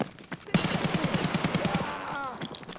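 Gunfire in Escape From Tarkov rings out in a rapid automatic burst of about a dozen shots, followed by a brief pause and fainter trailing sounds, with a voice shouting underneath.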